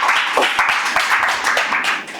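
Hands clapping in steady rhythm during a prayer gathering, a bright crackling run of claps from several people, fairly close and loud throughout.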